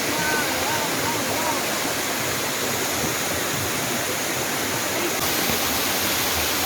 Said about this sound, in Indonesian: Ini ya, sampai air terjun.